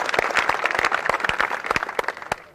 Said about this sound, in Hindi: चलिए, जैसे कि पूरे जोश के साथ, तालियों के साथ।